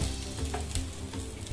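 Paneer masala dosa in a little oil on a pan over low flame, a steady soft sizzle and crackle that runs continuously and fairly quietly, with no voices.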